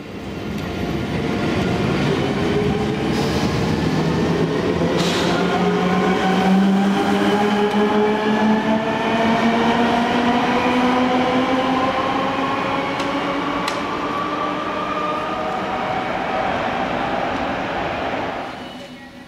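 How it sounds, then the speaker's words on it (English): Locomotive 27363 pushing a loco-hauled train north through Argenteuil station near Paris Saint-Lazare, Mantes service: loud passing rumble with rising and falling motor whines sweeping upward, swelling in, holding, then fading near the end. "This is Argenteuil station, not far from Paris Saint-Lazare, as 27363 pushes north with a train from Mantes to La Jolie."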